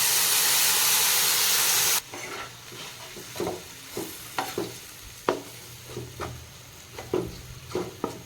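Ginger, garlic and ground masala sizzle and hiss in a hot pan for crab curry, with a loud steamy burst at first, then a steady fry broken by repeated scraping stirs close by.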